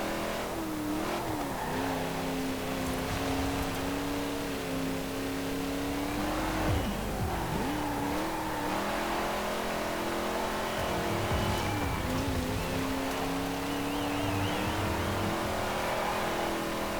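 A modified car in Forza Horizon 4 races with its engine droning and revving up and down through gear changes, with tires squealing in corners, loud and continuous with no talk.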